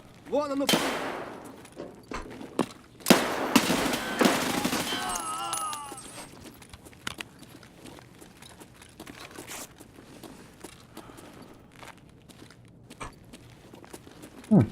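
M4A1 rifle gunfire in the game Escape From Tarkov, a few loud bursts early on that give way to quieter clicks, shuffling and movement sounds, with no talk.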